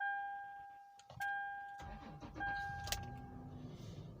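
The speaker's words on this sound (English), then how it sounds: "now the engine is running" A 2012 Toyota 4Runner engine cranks and catches with a short starter whir, then settles into a steady idle. Dashboard warning chimes ring beforehand and a sharp click sounds partway through, all close by.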